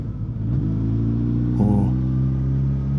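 Suzuki GSX-S1000GT motorcycle in second gear climbing a hill with on-off throttle, a loud, close engine note that rises briefly then settles into a steady drone, with a wind-rush underneath and no speech.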